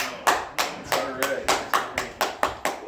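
An audience claps after a rope trick, a sparse, rhythmic patter of hands at a steady pace, fairly close, with some voices mixed in.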